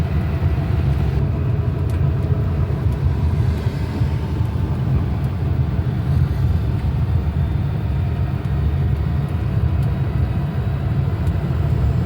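A steady low rumble and whine from inside an electric auto-rickshaw travelling along the road toward Kannur, loud and continuous throughout with no talk.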